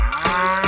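A cow moos inside a video game, a short, loud, close lowing call with a harmonic tone, heard alone.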